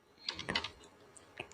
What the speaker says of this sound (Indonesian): Kita tekan tombol window pada keyboard lalu ditambah tombol R, maka muncul run.